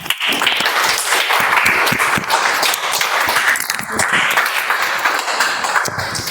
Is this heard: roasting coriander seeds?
no